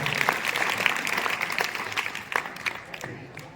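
School audience at CM Rise Model HSS Sailana claps for an elder, a brief scattered round of applause with sharp individual claps standing out and faint crowd murmur beneath, tapering off toward the end.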